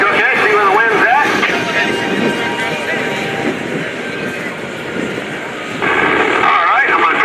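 A Piper Cub's engine drones loudly and continuously in flight during an air show aerobatic routine, its pitch shifting as power changes, with someone talking over it.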